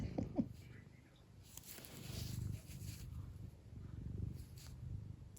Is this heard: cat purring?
yes